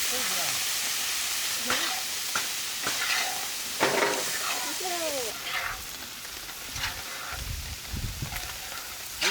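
Liver frying in a spiced masala in a pan gives a steady close sizzle with occasional stirring scrapes, and voices talk softly over the cooking.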